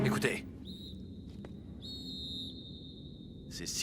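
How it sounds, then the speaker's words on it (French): Thin, steady high-pitched whistles sound in a few long sustained tones with short breaks, faint against a quiet low background rumble. "Ces sifflements ne me disent rien qui vaille."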